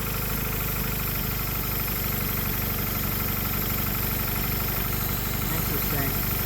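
A Honda Prelude engine idles close by, holding a steady, rough running drone with a hand covering the intake; the rumble stays constant throughout with slight vibration.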